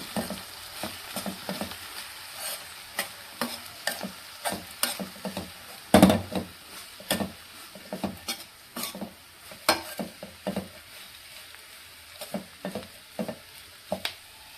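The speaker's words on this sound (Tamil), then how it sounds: "இப்போ இதை அப்படி தூக்கி இதில் போட்டுட்டு நல்லா கிண்டி விடணும்." A spoon stirs and scrapes horse gram upma around a hot pan in a steady string of sharp, close clacks over a soft sizzle, with one heavier knock midway and no voices.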